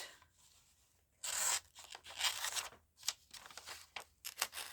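Scissors cut through a paper collage strip in a quiet room, a series of short, crisp snips and rustles of varying length, heard close with no talking.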